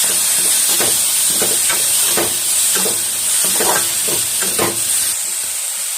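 Chopped onions and two finely cut tomatoes sauté in a pan with a steady loud hiss and sizzle, broken by regular scraping stirs from a spoon, with no talking.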